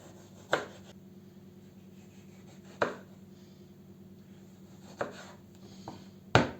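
A knife chops vegetables for a spring salad on a cutting board, four sharp isolated knocks spaced a couple of seconds apart against a quiet room background.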